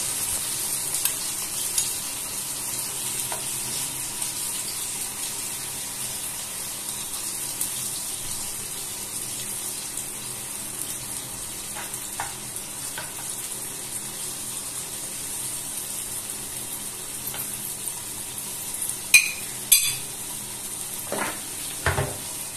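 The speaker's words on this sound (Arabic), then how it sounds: "بنحرك الخليط كده كله عشان يمتزج في بعضه." Mustard being stirred into a fish and cheese sauce mixture, a soft, steady scraping and swirling that runs quietly throughout with a few sharper clinks near the end.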